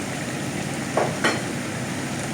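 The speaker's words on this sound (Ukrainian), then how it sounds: "обжарюємо його до готовності." Steady sizzling of pork brain frying in a pan on onions, a continuous hiss with a couple of brief stirring scrapes partway through.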